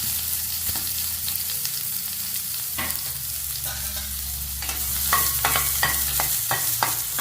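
Onion sautés in hot oil with popped mustard seeds and curry leaves, a steady sizzle broken in the second half by a run of sharp, rhythmic spatula scrapes and taps against the pan.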